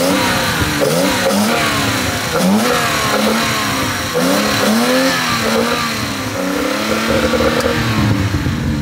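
A 1966 Jaguar E-Type 3.8 Coupé with three open Weber carburetors revs loudly and close up, its engine note rising and falling in repeated blips.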